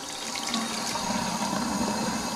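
Hot water pours steadily from a tap, a continuous close splashing rush with no pauses and no voices.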